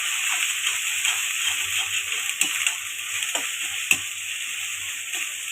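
Ginger garlic paste fries in a hot pan with a steady hiss, while a spoon scrapes and stirs it in several distinct knocks and scrapes.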